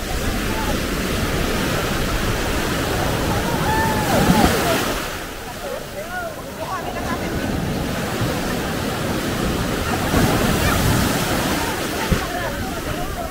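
Rushing surf and breaking waves roar steadily up close at a beach in Guimaras, Philippines, during monsoon weather, with a brief lull in the middle before the wash of water swells again; voices murmur faintly underneath.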